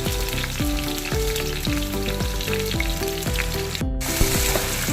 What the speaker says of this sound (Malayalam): കറുവപ്പെട്ട വറ്റൽ മുളക് വെളുത്തുള്ളി അണ്ടിപ്പരിപ്പ് പെരുംജീരകം ജീരകം ലീഫ് എല്ലാം ചേർത്ത് നന്നായിട്ട് വഴറ്റി എടുക്കാം